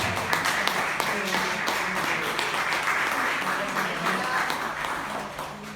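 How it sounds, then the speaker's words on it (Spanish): A church congregation applauds during a Spanish-language service, a dense, steady clapping that fills the whole stretch, with voices and some tonal sound mixed in beneath it. "Denle un aplauso al Señor por su palabra"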